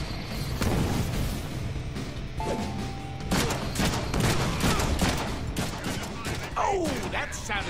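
Grenade blasts and heavy gunfire fill a Deadpool video game battle, with dense booming explosions and rapid shots running throughout, layered with game effects.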